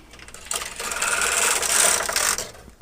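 A domestic knitting machine carriage sweeps across the needle bed, knitting a single short row of yarn for a curved hem. It makes one steady, loud mechanical whir lasting about two seconds, with no voices.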